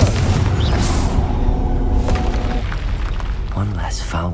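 A Confringo blasting spell explodes in Hogwarts Legacy as a heavy boom with a rumbling tail, mixed with spoken voices throughout.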